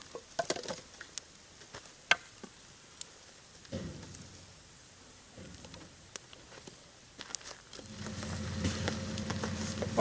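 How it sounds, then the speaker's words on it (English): Rain patters on the roof of a Pajero during a camping trip: scattered close taps and drips that thicken into a steadier soft drumming toward the end. "enjoy the sound of the rain on the roof"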